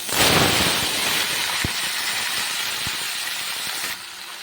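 Mixed vegetables hit hot oil spiced with bay leaf, dried red chilli and five-spice seeds for a chorchori. A loud burst of hissing sizzle comes first, then settles into a steady frying hiss with a few crackles before cutting off near the end.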